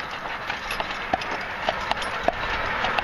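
Driven horses' hooves clip-clop across a bridge, the sparse hoof knocks sounding soft and somewhat distant beneath a steady broadband wash of noise, with no talk.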